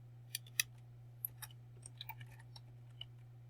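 Scattered, sparse key presses on a computer keyboard sound as faint, light clicks over a constant low electrical hum, with uneven gaps between strokes.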